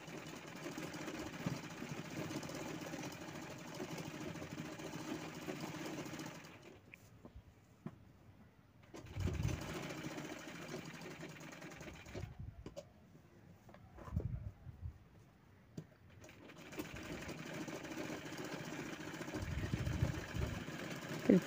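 A sewing machine stitches along the corner of kurti fabric, its motor buzzing in long runs broken by short quiet pauses, close and moderately loud.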